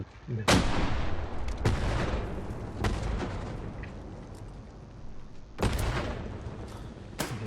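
Grenade explosions and gunfire in the World War II shooter Hell Let Loose, during a hundred-player battle: several sharp, heavy blasts spaced seconds apart over a constant rumbling din of distant combat, with faint talk now and then.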